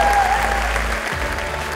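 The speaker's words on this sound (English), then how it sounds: "So please give yourself a huge round of applause." A short burst of dense crowd applause at a charity event in Scotland, steady and fairly loud throughout.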